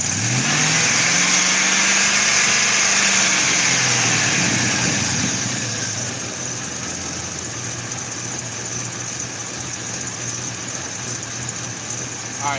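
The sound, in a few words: car engine idling after starting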